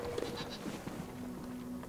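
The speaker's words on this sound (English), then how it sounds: "That's a good goat." A goat bleats in Brothers: A Tale of Two Sons, a steady mid-pitched call running through much of the short stretch over a busy game background.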